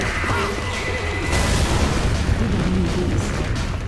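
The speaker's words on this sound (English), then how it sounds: "Pipe bomb out!" A pipe bomb explodes in Left 4 Dead 2, a dense, loud boom and rumbling blast amid chaotic combat noise and gunfire that continues without pause.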